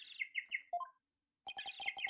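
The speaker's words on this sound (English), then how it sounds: "That's my ringtone." Penguin-chirp phone ringtone in the Ace Attorney game: bright electronic peeping trills in quick bursts, a short pause of silence, then a rapid run of chirping beeps, close and clear.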